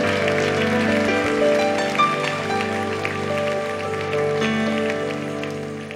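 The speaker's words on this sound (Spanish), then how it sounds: "ese aplauso fuerte." Church congregation applauding loudly during a service, a dense sustained wash of clapping that fills the room, with sustained musical tones underneath and faint voices mixed in.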